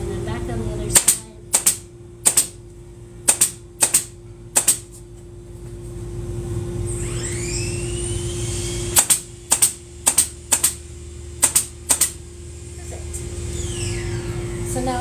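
A staple gun fires sharp, loud snaps into upholstery fabric on a chair frame, first in a quick series of six, then a pause with rustling, then another rapid burst of seven.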